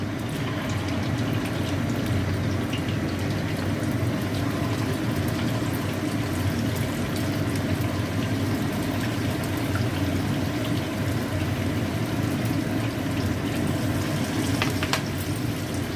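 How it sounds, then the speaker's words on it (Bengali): Kebabs frying one by one in hot white oil, a dense, even, continuous sizzle held close and steady throughout with no talking. "এবার একে একে কাবাবগুলো আমি ভেজে নেবো।"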